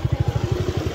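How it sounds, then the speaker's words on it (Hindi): Motorcycles pass by close on a busy street near Ram Jhula in Rishikesh, their engines producing a loud, rapid pulsing putter over a short stretch. "बाइक्स भी यहाँ पर आ जा रही हैं यार, बाइक्स भी आ जा रही हैं।"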